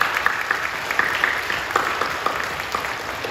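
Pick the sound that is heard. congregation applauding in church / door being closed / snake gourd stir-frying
congregation applauding in church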